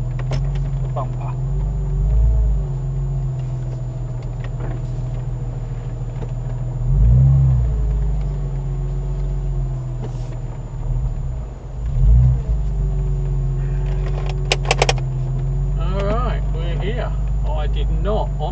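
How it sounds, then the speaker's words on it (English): A car engine idles and rumbles low and steady while the car reverses into a parking space at Flatford Mill in Constable country, England, with a few swells as it moves. People talk over it. "I'm going to put the car in backwards so we don't risk"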